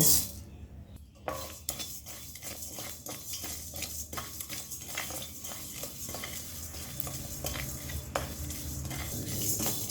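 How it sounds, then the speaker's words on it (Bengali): Whole spices such as cumin, coriander, cardamom and cloves are stirred in a hot kadai over a low flame. A spatula scrapes and clinks against the metal in steady rhythmic strokes over a faint, quiet sizzle. "গ্যাসটাকে লো ফ্লেমে রেখে চার থেকে পাঁচ মিনিট ভেজে নেব"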